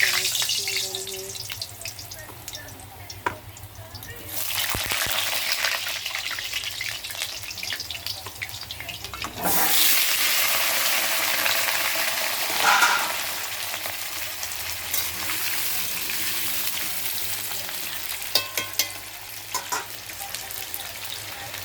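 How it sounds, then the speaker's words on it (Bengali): Potato pieces frying in hot oil over a wood fire, a loud, continuous sizzle that surges as pieces go in, with occasional stirring clicks and brief water-like splashes, close throughout. "এবার আলুটাকে ভেজে নেবো আমরা"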